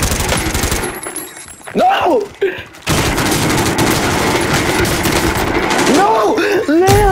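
Loud, sustained automatic gunfire in Call of Duty: Modern Warfare: rapid bursts rattle almost continuously, with a brief lull before a long unbroken stretch of shooting, while a player shouts over it.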